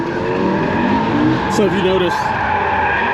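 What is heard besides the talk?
drift car skidding tires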